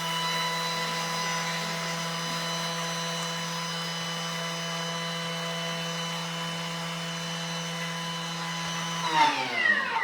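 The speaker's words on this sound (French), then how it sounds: "c'est de le mixer 10 secondes, vitesse 10, pour le réduire en poudre, en sucre glace" A kitchen blender on top speed grinds sugar into icing sugar, a loud steady whine held for about nine seconds before it winds down, alone with no talking.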